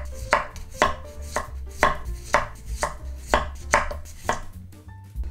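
Knife slicing radish on a cutting board for pickled radish wraps, a steady series of crisp, close chopping strokes at an even rhythm, with no talking.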